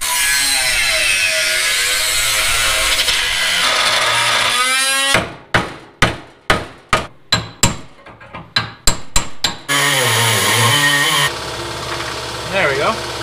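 Metal bracket being cut away during custom rack and pinion steering work on a Chevrolet Nova: a run of sharp, close, percussive bursts after a stretch of workshop noise, then a steady grinding tail.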